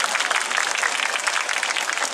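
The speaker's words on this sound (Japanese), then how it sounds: "ここのお客さんが一番拍手が大きいです" An outdoor crowd at a yosakoi dance festival in Ikebukuro West Gate Park, Tokyo, applauds steadily, dense clapping filling the whole moment at a loud, even level.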